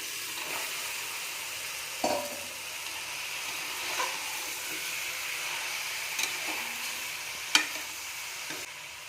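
Goat head meat frying in a pan with ginger garlic paste, a steady close sizzle with occasional stirring clinks and scrapes, and no talking.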